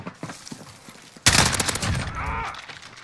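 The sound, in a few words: M4A1 rifle gunfire in a video game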